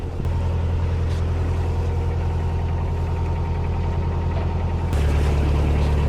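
A car engine idles at low revs, around 1,000 rpm, a steady loud close rumble with a continuous low hum that steps up slightly in pitch and level near the end.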